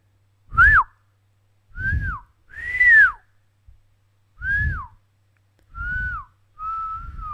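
A person whistles a short melody in six separate bending phrases, clear and close, with brief pauses between notes.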